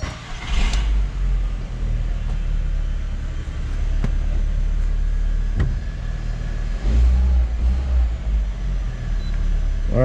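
A 1998-2005 Volkswagen Beetle engine, just fitted with a new crankshaft position sensor, cranks and starts, then settles into a steady loud idle with a couple of rev swells, recorded up close.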